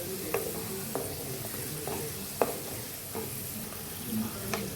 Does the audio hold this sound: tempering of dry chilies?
yes